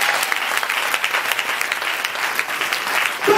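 A church congregation applauds loudly and steadily during a French-language Sunday service, dense clapping filling the space without pause.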